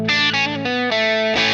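An electric guitar played through a compressor into a NUX tape echo pedal, a few sustained distorted notes and chords changing in quick succession, loud and close, with a shimmering effected tone.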